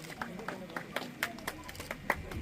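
A small crowd at a watershed management programme event claps softly and sporadically, with scattered distinct hand claps at some distance and a faint murmur of voices beneath.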